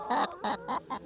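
A hen clucks four times in quick succession, each cluck a short, close, fairly loud burst with brief gaps between, alone and without talk.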